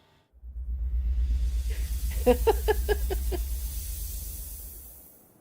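A voice makes a long hissing spray noise, imitating a squirt water bottle, with a short burst of rapid pulses in the middle before fading out.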